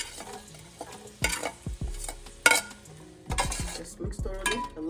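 Garlic and sweet onion are sautéed in a pot, with a soft sizzle under repeated scraping and knocking of a spoon against the metal as the mix is stirred, close and moderately loud.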